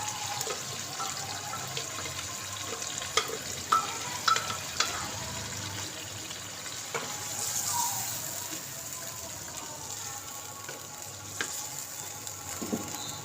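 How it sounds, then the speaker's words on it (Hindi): Masala frying and being stirred in a pan while chicken korma is cooked, with a steady close sizzle, occasional scrapes and clinks of the spoon across the pan, and no talking. "2 से 3 मिनट के लिए आपने अच्छे से इसको भूनना है इसी मसाले में"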